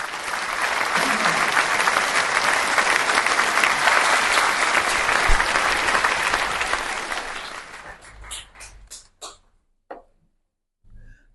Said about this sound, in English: So round of applause anyway.